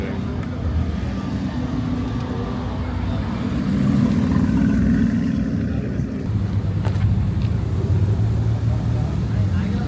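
Steady car traffic near the Nurburgring rumbles close by, a low continuous engine and road drone with wind buffeting the microphone and a car passing midway, loud and unbroken for the whole stretch.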